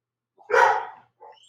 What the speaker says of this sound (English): That's my dogs again.